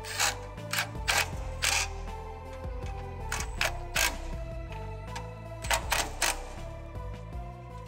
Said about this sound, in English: and then insert your bottom bolt.